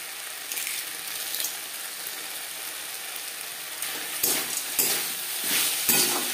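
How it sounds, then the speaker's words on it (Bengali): Khesari greens with lentil dumplings are stirred in a pan over a steady frying sizzle, with a spatula scraping and clacking in a few sharp strokes that grow more frequent toward the end. "শাকের সাথে বড়ি বেশ ভালো করে মিক্স করে দেবো"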